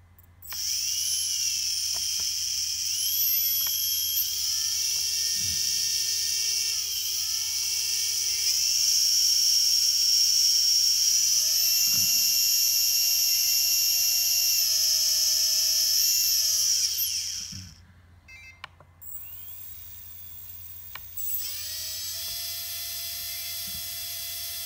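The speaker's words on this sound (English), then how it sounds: "There's the motors one at a time" Tarot 130 quadcopter motors spinning up one at a time: a piercing, high electric whine that steps upward in pitch as each motor joins, holds steady for several seconds, then cuts briefly before resuming.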